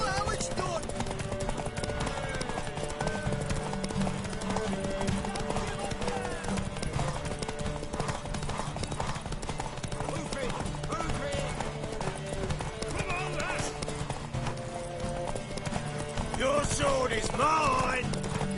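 A horse racing at a gallop in the video game The Witcher 3, rhythmic hoofbeats drumming steadily under game music and ambient noise, with voices speaking over it.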